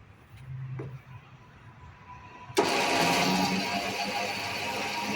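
An electric winch motor on a 40-foot gooseneck container hauler trailer starts abruptly partway through and then runs at a steady, loud whine until the end, after a quieter stretch of faint background noise.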